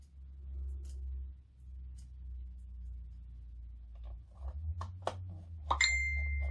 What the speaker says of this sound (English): That was my phone, not yours, so don't check your phone.